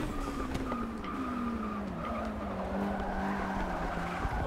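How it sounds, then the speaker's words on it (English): A race car in Forza Motorsport 6 brakes hard, its tires squealing in a long, gliding skid under engine drone, moderately loud in the mix. "Oh, Crevier laid on his brakes."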